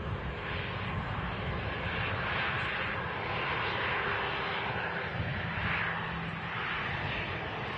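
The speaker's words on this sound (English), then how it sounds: "737-900 entering final approach now as well." A KLM Boeing 737-900 jet on final approach at Manchester Airport gives a steady, broad engine roar that stays loud and even throughout, with no talk over it.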